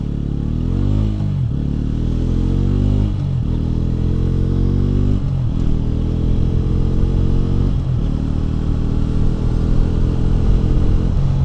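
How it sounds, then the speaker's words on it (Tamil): A Bajaj Pulsar N160 motorcycle launches from first gear and accelerates hard. Its engine note climbs loudly and drops at each of several quick upshifts, heard close and continuous, with no one talking. "இப்போ நம்ம ஃபஸ்ட் கியர் போட்டு லான்ச் பண்ணலாம்."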